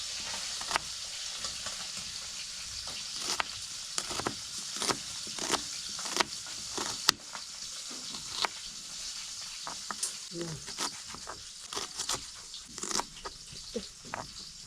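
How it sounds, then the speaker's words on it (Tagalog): Onion, garlic, ginger and green and red chili sauté in a hot pan, a steady close sizzle broken by frequent sharp clatters and stirring scrapes throughout, with no talking. "Diyan na lang ako mag-gisa."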